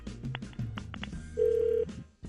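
Telephone call being placed: a quick run of dialing tones, then a steady ring tone, with no talking.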